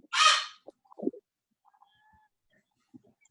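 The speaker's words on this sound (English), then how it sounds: "probably my bird" A pet bird gives one loud, harsh squawk near the start, heard indoors during an online sewer commissioners meeting, followed by a few faint, scattered small sounds.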